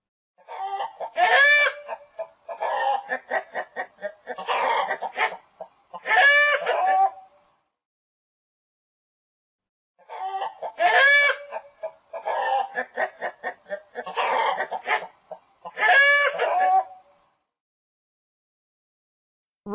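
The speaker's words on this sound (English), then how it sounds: "Hen." A hen clucking in rapid bursts of throaty clucks, the sequence repeating after a pause, close and alone without talk.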